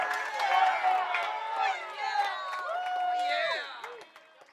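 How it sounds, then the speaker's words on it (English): Applause and cheering from guests at a fundraising dinner, clapping mixed with whoops and voices, loud at first and trailing off toward the end. "give them a round of applause"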